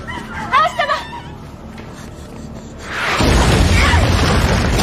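An explosion erupts in a Rurouni Kenshin film scene, a loud sustained roaring blast after a few brief vocal sounds, rumbling on to the end.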